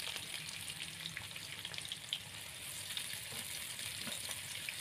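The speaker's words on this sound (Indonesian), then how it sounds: "Lalu kita masukkan bawang bombaynya, kita tumis bersama dengan bawang merah." Onions and shallots sautéing in a pan for spicy sweet soy tofu wings, a soft steady sizzle with light crackling that stays faint and even throughout.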